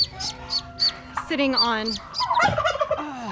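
Poultry and newly hatched ducklings by a nest on a ranch, a run of shrill chirps and peeps at close range with a gobbling call partway through, while a person talks over them.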